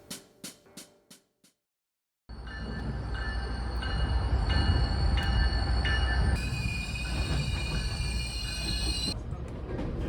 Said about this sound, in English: We board a train to Hamilton,